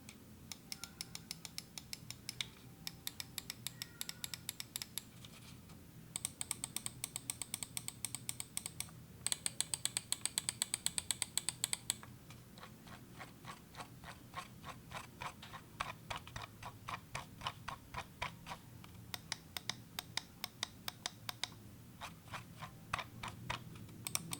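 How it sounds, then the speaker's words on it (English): Crisp, rapid clicks from the switches and scroll wheel of an Xtrfy M8 wireless mouse come in bursts and rapid ticking runs, quiet and close, with no speech. "So it's time to do a quick sound test and see what the wheel and switches feel like."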